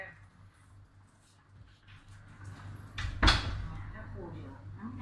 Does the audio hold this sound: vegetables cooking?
no